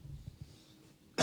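A single short, loud cough bursts out near the end, close to the microphone, after a stretch of quiet room tone with faint low murmurs.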